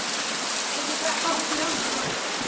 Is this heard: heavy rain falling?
yes